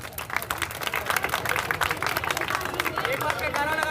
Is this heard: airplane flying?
no